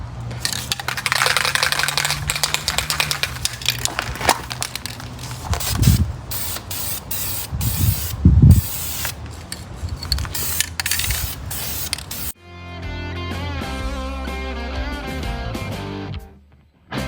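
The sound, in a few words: spray painting primer onto rusty steel wheels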